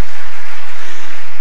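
Church congregation applauding, a dense and very loud wash of clapping that fills the whole short moment without a break.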